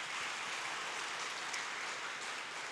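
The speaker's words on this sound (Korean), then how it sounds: "박수를 올려드리겠습니다." A church congregation at a large worship gathering gives sustained applause, a dense even patter of many hands that stays steady and fairly faint from start to finish.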